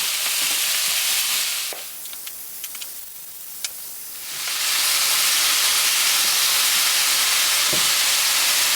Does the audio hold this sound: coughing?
no